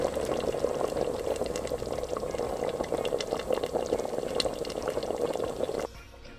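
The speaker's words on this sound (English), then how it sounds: "We'll allow it to simmer down in that." Jamaican oxtail stew simmering in a pot, a dense continuous bubbling and popping, close and steady, cutting off abruptly near the end.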